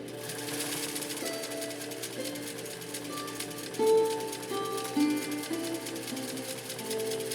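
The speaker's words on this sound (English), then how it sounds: "then we'll consider our premiere complete on this great Japanese Atlas machine" A 1956 Japanese Atlas sewing machine stitches through six layers of denim, its needle mechanism whirring in a fast, steady, close rhythm with a few louder thumps along the way.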